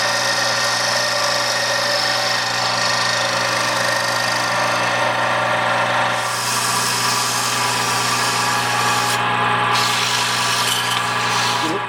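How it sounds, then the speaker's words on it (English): A lathe spins a resin pen blank while a carbide tool cuts it, a steady loud motor hum with a constant tonal drone, scraping texture shifting midway through. "I'm going to switch back to the carbide tool because it was easier."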